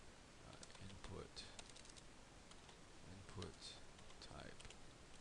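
Code is typed on a computer keyboard, a quiet run of light key clicks that comes in small clusters with short pauses between them.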